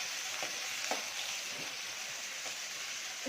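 Onions frying in a pan as the base for idli sambar, a faint, steady sizzle with occasional soft stirring taps.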